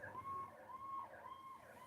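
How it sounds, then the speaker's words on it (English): A faint ambulance siren passes by a house, its wail rising and falling in slow, repeating sweeps from a distance, with no voices over it. "I guess probably an ambulance going past my house."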